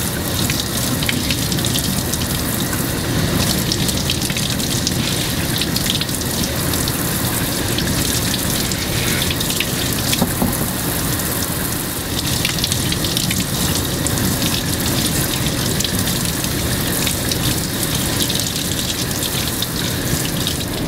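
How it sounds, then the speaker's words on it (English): Running water pours steadily into a utility sink in a furnace room as freshly cut tulips are rinsed, a loud continuous splashing gush that fills the whole stretch with no voices. "This is my utility sink, and I'm basically just going to show you how I rinse these off."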